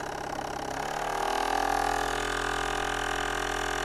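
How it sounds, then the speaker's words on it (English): A small Jensen or Mamod live steam stationary engine runs fast with a loud, steady, buzzing chug that speeds up slightly and then holds a fast, even pace. "Just to show you guys how fast this engine is"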